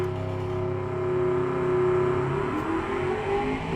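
Engine of a 1985 IMSA GTO-style race car in the game Automation revs hard with wheel spin, a steady loud droning whine rising and holding under part throttle, with no talk.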